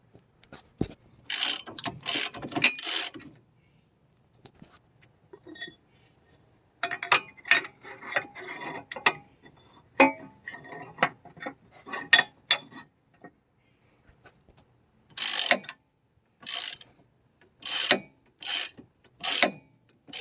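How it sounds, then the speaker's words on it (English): Ratchet wrench cranking during a strut install on a 2005 Toyota Sienna, passenger side: bursts of rapid, crisp clicking strokes, close and loud, separated by quiet pauses, with no talk. "Crank it, Steve. Crank it"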